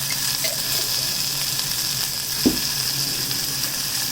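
Hing and turmeric powder hit hot oil for a pepper rasam and set off a steady, dense sizzle that holds for the whole stretch, close by, with one brief clink near the middle and no speech.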